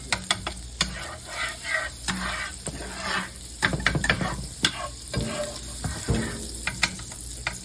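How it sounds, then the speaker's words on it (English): Onions frying in butter in a skillet crackle and hiss up close, with bursts of scraping and clattering as a utensil stirs and spreads them, swelling and easing in uneven waves. "then we're going to get the onions down in the skillet. The first layer of onions down anyway. All right, now you want to add some butter."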